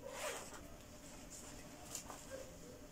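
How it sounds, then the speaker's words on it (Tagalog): A side zipper on a branded bag is pulled open with a short, quiet, scratchy rasp, close by and with no talk over it. "Tapos may zipper siya dito sa side."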